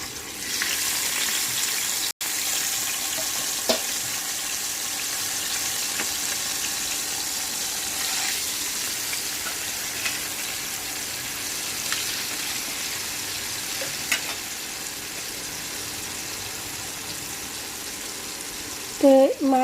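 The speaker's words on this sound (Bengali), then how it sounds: "তো এবার আমি মাছের পিসগুলো দিয়ে দিব।" Silver carp pieces fry in hot oil in a pan, a constant hissing sizzle close by with a few faint clicks and a brief louder bump near the end.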